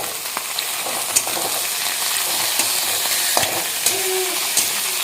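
Chicken pieces and onions sizzle and hiss loudly in a hot pan while being stirred, with steady broadband frying noise broken by several sharp scrapes and clicks of the spoon, close and without speech.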